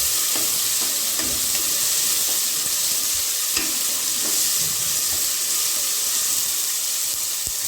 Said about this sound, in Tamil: இஞ்சி பூண்டு பேஸ்ட் மட்டும் கொஞ்சம் பச்சை வாசனை போகிற அளவுக்கு நல்லா வதக்கிக்கலாம்